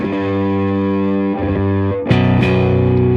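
Electric bass played through an EBS Billy Sheehan Ultimate Signature Drive pedal, distorted tone blended with the clean signal: loud sustained buzzy notes with a few note changes and a sharp pluck attack partway through, alone.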